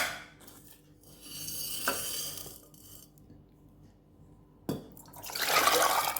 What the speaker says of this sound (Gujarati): તે કુકરમાં આવી રીતે ચણા પાણી સાથે એડ કરી દેવાના.